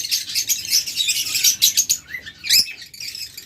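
Caged lovebirds and budgerigars chirp in a busy, overlapping chorus of high tweets, close and fairly loud, with a brief louder call near the end and no talk.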